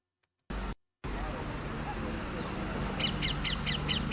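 A crow-like bird caws in a short series of repeated harsh calls, fairly distant and faint, heard over steady background noise after a brief burst of sound.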